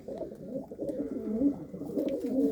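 Pigeons cooing in nesting boxes of a coop, soft repeated throaty rolling coos, close and fairly quiet, with no talk.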